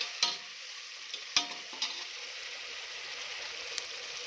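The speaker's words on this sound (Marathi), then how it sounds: "मिरची, लसूण, कोथिंबीर, ते वाटण यात ॲड करूया. छान त्याला मिक्स करून घेऊया." A green chili, garlic and coriander paste is stirred into softened tomatoes in a pan, producing a quiet steady sizzle punctuated by a few sharp spoon taps and clicks, close but faint.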